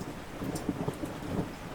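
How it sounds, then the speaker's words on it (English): Steady rain pours around a lighthouse during a storm, with low rumbling thunder rolling beneath the constant hiss of falling water; no voices. "Outside, the storm settles into its steady rhythm."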